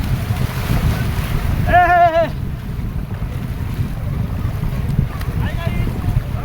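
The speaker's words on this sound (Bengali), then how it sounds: "এই যে আমাদের বোট।" A boat moving over sea waves in wind, with steady broadband wind and water rush throughout, close and loud; a short voice is heard briefly near the start and faintly again later.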